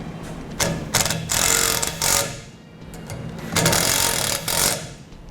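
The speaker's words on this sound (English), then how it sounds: "Each bracket gets attached with pre-drilled holes to the bracket using the self-tapping screws provided." A power driver runs self-tapping screws through pre-drilled holes to fix a B and W heavy-duty trailer hitch bracket on a 2007 Ford F-250/F-350, with two loud sustained bursts of driving, each trailing off into a quieter pause.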